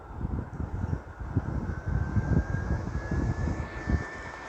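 A FumePRO201-75 fume extractor runs with a steady, moderately loud blower whoosh and hum. A faint tone slowly rises partway through as the airflow is turned up.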